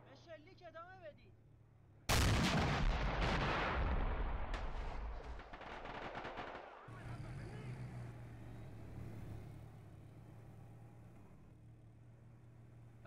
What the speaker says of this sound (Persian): به شلیک ادامه بدید.